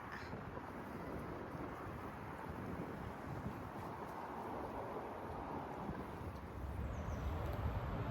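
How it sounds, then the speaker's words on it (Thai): Strong wind blowing outdoors through a flower garden in the countryside, a loud, continuous roar of rushing air buffeting the microphone, swelling slightly toward the end with no voices. "วันนี้ลมแรงมาก"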